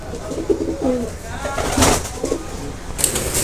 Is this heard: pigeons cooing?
yes